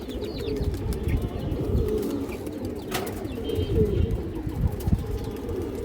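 Several pigeons of ornamental breeds coo in a loft, a steady low murmur of overlapping calls close by with faint chirps and a brief flutter.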